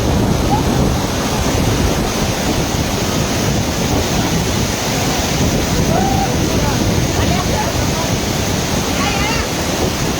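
A powerful waterfall plunging roughly 400 to 500 feet down a mountain cliff makes a dense, unbroken roar, loud and close, with wind buffeting the microphone.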